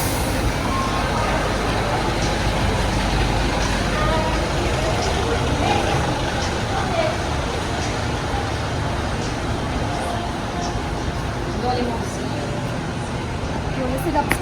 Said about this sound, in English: Okay, so this is the bus that's gonna take us.